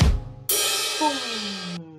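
A struck metal cymbal rings out suddenly and loudly, its bright shimmering wash sustaining for over a second before cutting off, with a faint knock just before the hit.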